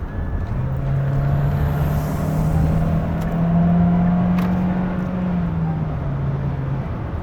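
Hyundai Staria Hybrid van accelerating at higher speed, a steady droning engine and road hum that rises slightly in pitch, heard from inside the cabin.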